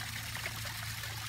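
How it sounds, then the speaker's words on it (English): A backyard waterfall pouring into a fish pond, a faint continuous trickle and splash with a low steady hum underneath, no voices. "such an amazing waterfall with fish in our backyard"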